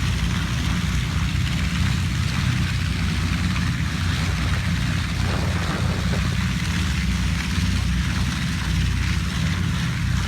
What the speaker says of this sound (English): That's the sound of 24 Wright engines warming up for takeoff